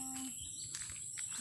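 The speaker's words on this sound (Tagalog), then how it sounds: "Puro ibon ang maririnig mo." Birds chirp and tweet in short bursts over a steady outdoor background hum on an overgrown farm, fairly faint and somewhat distant.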